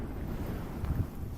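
Strong, gusty wind buffeting a DJI drone in flight, a steady low roaring rumble with slight surges, heard alone and fairly faint.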